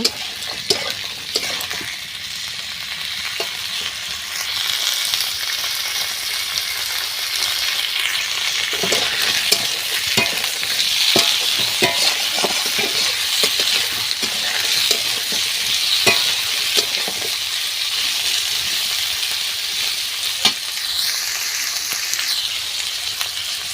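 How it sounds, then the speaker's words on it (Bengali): Lata fish fries in a wok with a continuous loud sizzle and frequent scraping stirs of the spatula, with no voices. "কড়াইতে দেওয়া হয়ে গেছে এবার ভালো করে ভেজে নেব"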